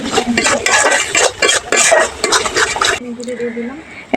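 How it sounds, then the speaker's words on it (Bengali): A spoon stirs turmeric and coriander powder with salt into chicken curry in a pan, giving close, busy scraping and clinking that stops abruptly, followed by a softer sizzle; a voice speaks over the stirring. "এবার আমি নাড়াচাড়া করে কষিয়ে নেব।"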